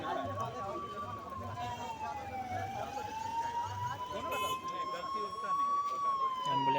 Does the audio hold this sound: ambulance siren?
yes